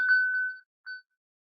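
A smartphone plays its locate-device sound, a bright tonal ding with a ringing overtone that sustains about half a second, followed by a shorter second ding, clean and alone with silence after.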